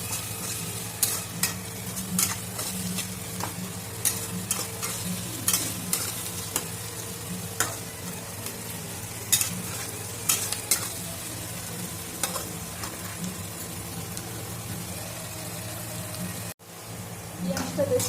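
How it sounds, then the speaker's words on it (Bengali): Onions fry in a pan under a constant sizzle, punctuated by repeated scraping, clacking strokes of a spoon stirring them, close and without talk. "দেখুন আমি এখন পেঁয়াজটা কষছি।"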